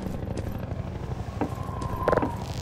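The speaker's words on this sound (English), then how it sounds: "an attack helicopter is approaching" An attack helicopter's rotor thumps and whirs steadily at moderate distance in the video game Half-Life 2, with a few sharp game-style effects mixed in.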